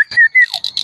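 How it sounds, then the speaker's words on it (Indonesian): Birds at an outdoor edu-park give a quick burst of several bright chirps and whistled calls, close and fairly loud, with no talking. "Ada suara burung"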